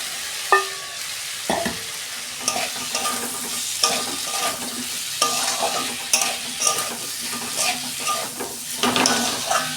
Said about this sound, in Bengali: মশলাটা আমি 2 মিনিট কষে নেব।